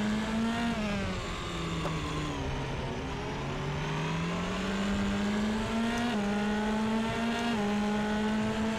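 A Formula RaceRoom 3 race car engine screams at Silverstone, loud and close, its pitch climbing and falling with throttle and dropping sharply at gear changes, continuous with no voices.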